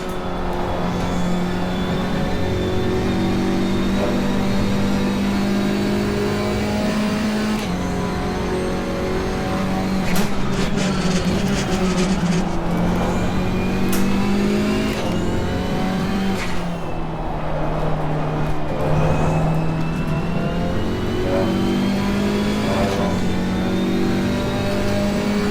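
A KTM X-Bow race car engine, heard from the driver's seat in a racing game, revs loudly and continuously, rising and falling through gear changes across a lap with no break.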